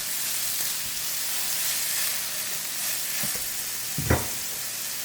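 Mushrooms cooking in a pan as part of a meatloaf recipe give a steady, close frying sizzle, with a few soft clicks and one brief knock near the end, and no talk.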